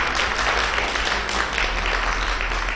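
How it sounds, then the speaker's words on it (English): Audience at a strategic-plan meeting applauds national government delegates asked to stand, a steady loud wash of clapping that holds evenly throughout with no voice over it. "Yes, we can applaud them"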